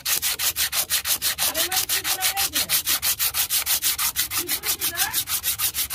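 Rhythmic back-and-forth rubbing on the cylinder head of a Sifang power tiller engine, about five strokes per second, steady and close, with no talk.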